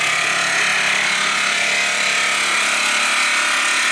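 A new portable generator runs in a garage right beside a Jeep, giving a steady, loud, unbroken mechanical drone that carries on alone with no talk.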